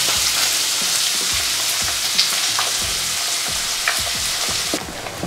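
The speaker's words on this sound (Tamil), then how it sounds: "இதை சேர்த்துட்டு நல்லா வதக்க வேண்டிய இதாக" Ingredients sauté in a hot pan with a continuous loud sizzle, punctuated by regular scraping and stirring strokes of a spatula, close up and with no talking.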